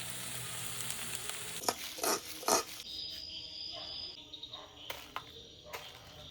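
Leafy greens frying in a pan with a steady faint sizzle, broken by a few louder clattering stirs and scrapes of a utensil.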